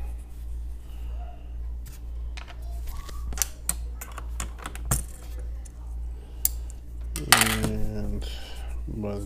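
Keycaps pulled one by one off a mechanical keyboard during cleaning, a run of small plastic clicks and snaps at close range, with a louder clattering rattle near the end.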